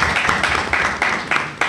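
A small crowd claps in short, uneven bursts at a promotional event for SOBRAGUI in Conakry, close and moderately loud.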